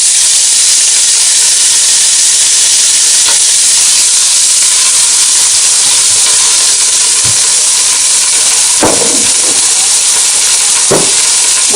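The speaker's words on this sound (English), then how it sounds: "Okay, so I'm going to whack the onions in there." About three small-diced onions with salt sizzle loudly in a pan for a mutton curry, a dense constant hiss close up, with a few faint clicks and knocks underneath.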